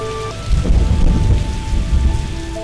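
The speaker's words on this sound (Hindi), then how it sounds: "जरा ठहरिए, यहाँ बारिश मीटरों में होती है, मिलीमीटरों में नहीं।" Heavy rain pours steadily onto surfaces in the rainforest at Kaiga, a dense, close, continuous roar with a deep low rumble beneath, loud throughout without voices.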